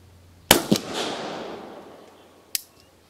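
An Uberti Walker black-powder revolver fitted with replacement nipples fires: two sharp, close reports in quick succession with a ringing decay, then a third loud crack about two seconds later.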